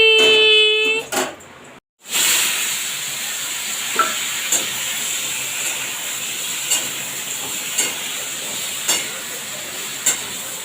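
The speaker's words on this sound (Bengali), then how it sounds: "এরপর আমি কড়াই তেল দিয়ে ভালো করে একটু ভেজে নেব" Pointed gourd fries in hot oil in a wok, a loud, steady, close sizzle and hiss running throughout after a brief sharp start, with occasional soft taps of stirring.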